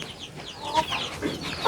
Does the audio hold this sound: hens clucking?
yes